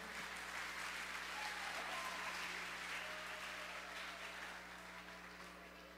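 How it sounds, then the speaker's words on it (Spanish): Steady audience applause at a children's festival show as an eleventh-grade group is introduced, a continuous wash of clapping that holds for several seconds before slowly easing off over a low background hum. "Recíbalo con un fuerte aplauso"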